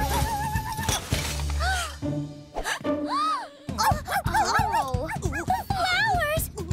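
Cartoon dog whimpering and barking: high, wavering whines and short yips repeated several times, close and clear, mixed with other sound effects.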